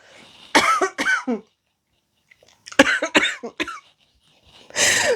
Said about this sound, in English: Sorry, human's got a cough.